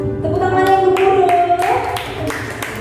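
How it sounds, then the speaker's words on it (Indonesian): A church hall audience at a Christmas youth celebration claps in a quick, ragged burst of hand claps, close and loud, with a keyboard chord sustaining underneath. "Tepuk tangan yang gemuruh."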